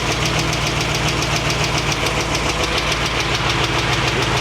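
A 1965 Ford Mustang GT engine runs steadily just after its first start, a loud, even idle with a rapid knocking beat throughout and no talk.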